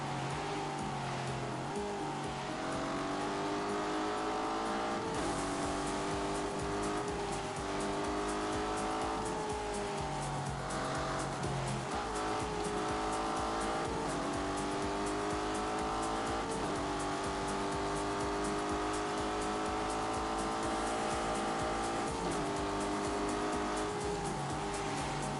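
Racing car engine in The Grand Tour video game screams loudly and continuously, its pitch rising and falling through gear changes, with tire squeal layered over the steady roar and no talking.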